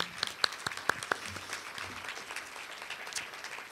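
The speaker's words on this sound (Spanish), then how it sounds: "así que un aplauso para todos ustedes" Audience applause at a book presentation in a fine arts museum, a steady wash of many hands clapping with a few sharp nearer claps at first, moderately loud and then settling.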